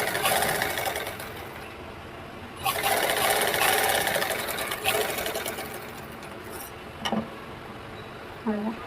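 A sewing machine runs continuously while stitching the lining around a blouse neckline, loud and close, its rhythm broken only by brief pauses and small clicks near the end.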